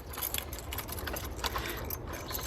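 Keys jangle and rattle as a set for a newly completed gym building is handled, a steady metallic clinking that stays close and fairly loud throughout, with a low rumble underneath.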